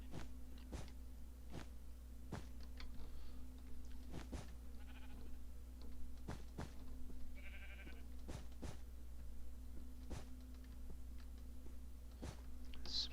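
Sheep bleat faintly and sporadically in the background, short cries scattered over a steady low electrical hum, with sharp clicks and taps recurring throughout.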